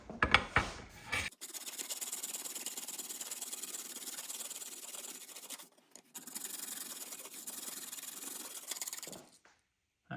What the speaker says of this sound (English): now it's just a case of filing these flush